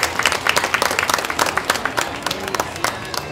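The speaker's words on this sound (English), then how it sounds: "Let's give her a nice round of applause" Applause for the winning heifer of a cattle show class, a dense burst of many hands clapping close by, steady for a few seconds with a crowd murmur underneath.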